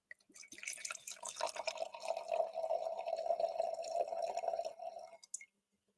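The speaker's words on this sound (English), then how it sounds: "The first pour." Red wine, a rye barrel-aged red blend, pours from a small bottle into a glass as a steady, close, liquid trickle lasting about five seconds, with no talking over it.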